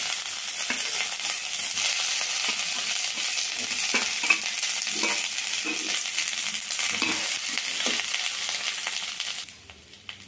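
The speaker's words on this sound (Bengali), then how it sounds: "একটুখানি নাড়াচাড়া করে নিয়েই এর মধ্যে দিয়ে দেব সেদ্ধ করে রাখা আলু" Boiled potatoes being stirred with curry leaves in a frying pan, a steady close sizzle with scraping and stirring sounds throughout, fading out at the end.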